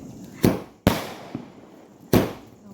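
Diwali firecrackers going off outdoors, three sharp, loud bangs spaced irregularly, each leaving a short fading tail, with a fainter pop between the second and third.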